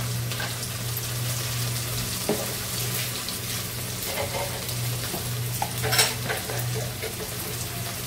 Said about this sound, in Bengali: রসুন পাতলা গুঁড়া আছে, ভালো করে মশলাটা কষিয়ে নেব।